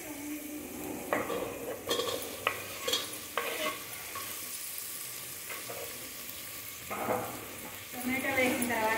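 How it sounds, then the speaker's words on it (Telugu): Tomatoes added to frying onions in a pan and stirred, a soft ongoing sizzle broken by irregular scraping and clinking strokes of the spoon at close range. "ఆనియన్స్ వేగిపోయాయండి. తర్వాత ఇప్పుడు నేను టమాటో వేసుకుంటున్నాను."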